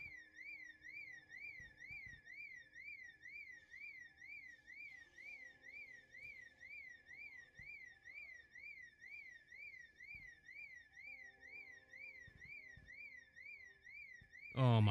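A warbling electronic alarm loops steadily throughout in the game Kingdom Come Deliverance, faint and continuous under low background rumble, ending with a louder burst at the very end.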